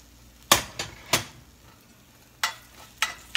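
Pancake batter with a splash of milk being mixed in a bowl, giving a handful of sharp, separate scraping knocks spaced irregularly, close and fairly quiet with pauses between strokes.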